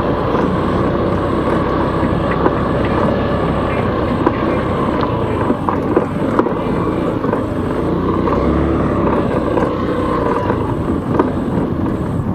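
Easyride 150N motorcycle riding off-road: a loud, continuous engine drone with rough rumble and wind noise, steady throughout, close to the microphone, no talking.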